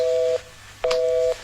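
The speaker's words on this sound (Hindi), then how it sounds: "फोन कट गया।" Phone call disconnecting tone: two short steady electronic beeps, a near, clean tone cut off, a pause, then a longer one, with no voices.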